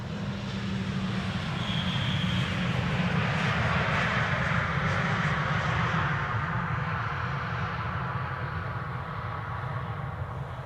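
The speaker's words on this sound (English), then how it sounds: "This is a KLM 737-800 arriving from Oslo, KLM flight 1198." A KLM Boeing 737-800 arriving at Amsterdam Schiphol Airport passes with a broad, steady jet engine roar, swelling then slowly easing as it lands, heard from a distance with no talking.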